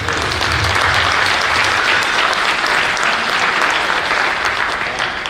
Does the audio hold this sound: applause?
yes